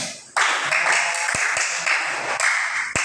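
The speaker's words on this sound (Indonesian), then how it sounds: "Nah, tepuk tangan untuk temanmu." A class of students gives a classmate a round of applause, a fairly dense patter of clapping with a few louder thumps scattered through it.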